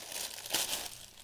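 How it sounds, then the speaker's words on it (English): Scissors slicing through plastic bubble wrap used for packing art, a continuous close crinkling and tearing rustle with a brief louder crunch midway. "scissors goes right through the bubble wrap."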